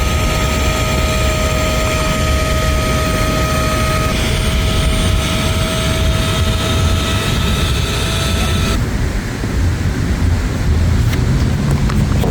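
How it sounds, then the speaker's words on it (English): An electric air pump inflates a packable kayak outdoors, a loud, steady droning motor with a continuous roar that changes tone partway through as the pressure builds, close and without talking. "Well, let's get the pump ready. So here we go, pumping up 1."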